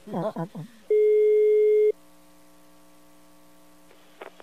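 A telephone line tone sounds as a prank call is placed: a short burst of voice, then a loud steady one-second beep, followed by a quieter continuous ringing line tone with a few faint clicks at the end.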